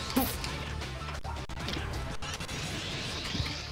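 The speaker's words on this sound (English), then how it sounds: "So you break the glass, right?" Glass shatters in the video game Super Monkey Ball: Banana Blitz: a loud crashing burst near the start, followed by dense, noisy game sound that continues to the end.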